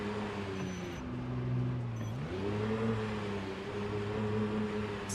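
A steady car engine hum in the video game Project Zomboid, with a low tone that dips and then climbs again, continuous throughout with no talking.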